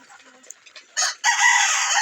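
Native deshi chickens on a small farm, faint scattered clucks followed by a loud, close crow that starts around the one-second mark and carries to the end.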